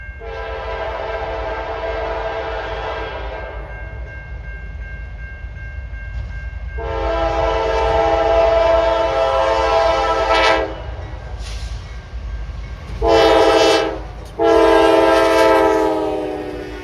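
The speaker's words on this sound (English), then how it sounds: "This daily Columbia, South Carolina to Enola, Pennsylvania road freight is on its way into Linwood Yard," A Norfolk Southern road freight train passes near Control Point Spencer, heading into Linwood Yard. Its air horn blows loud and close in long sustained blasts, then two shorter ones, over a steady rumble of the moving train.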